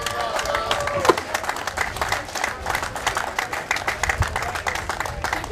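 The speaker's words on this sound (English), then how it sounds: "give these champions a big round of applause" Audience applause for the champions of a Tennessee Bass Nation high school state open fishing tournament: steady, dense clapping throughout, with voices and a few louder claps mixed in.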